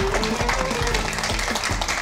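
A crowd applauds at a wedding as a large Cumhuriyet gold coin is pinned on the bride, a steady wash of loud clapping with faint music underneath, lasting about two seconds.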